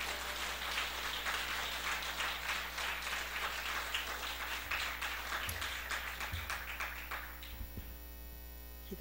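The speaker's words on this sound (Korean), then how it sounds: "방이동에서는 이런 박수 못 받아봤다 할 만한 큰 박수로 환영해" A church congregation at an early-morning service gives a pastor a long, full round of applause over a steady electrical hum, the clapping thinning out near the end.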